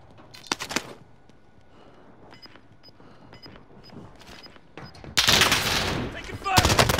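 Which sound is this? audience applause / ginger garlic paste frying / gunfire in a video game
gunfire in a video game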